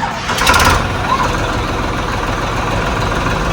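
A Farmtrac 60 tractor engine running at a steady low rumble, close and continuous, with a brief louder burst near the start.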